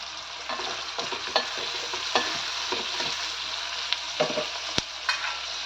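Vegetables sizzle in a pan while turmeric and salt are stirred through them, a steady frying hiss broken by repeated soft scrapes and clinks of the spoon against the pan, close up and with no one talking.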